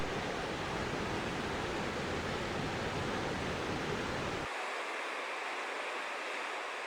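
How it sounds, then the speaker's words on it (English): The Yellowstone River rushes toward the Upper Falls in a steady, dense roar of water, loud and continuous, with the deep rumble dropping away partway through while the hiss carries on alone. "And here's the upper falls."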